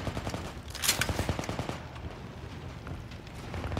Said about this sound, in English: So we all open fire on it.